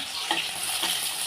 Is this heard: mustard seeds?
yes